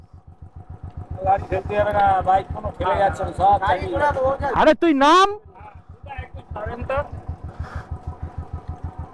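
A Royal Enfield Bullet motorcycle fitted with off-road tyres idles nearby with a steady low thumping rhythm throughout, while people talk loudly over it in the first half.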